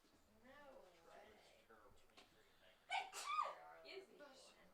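A single sharp sneeze bursts out about three seconds in, louder than the surrounding sound, during a high school baseball game between Armstrong and Flagler. A broadcast announcer talks before and around it.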